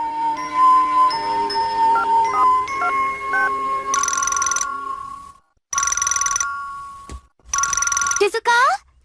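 A telephone rings in a Hindi-dubbed Doraemon cartoon, repeated electronic ring bursts separated by short silences, following light background music, clear and fairly loud.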